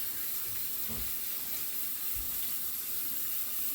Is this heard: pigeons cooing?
no